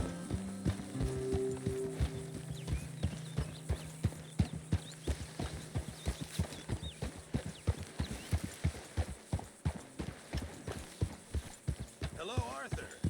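Horse hooves clip-clop steadily in Red Dead Redemption 2, a near, regular walking rhythm of sharp knocks running through the scene, with a voice speaking over them early on and a brief whinny-like sound near the end.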